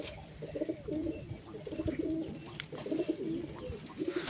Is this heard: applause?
no